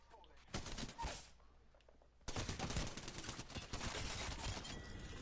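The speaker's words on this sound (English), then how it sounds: "I'm taking shots." Gunfire in a video game, with a few scattered shots early on followed by a dense, sustained volley of rapid cracks, all at moderate loudness with some voice mixed in.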